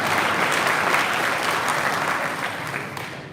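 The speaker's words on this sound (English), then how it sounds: "You can clap for that." Congregation applauding inside San Fernando Cathedral, a full, lively burst of clapping that holds strongly before tapering off toward the end.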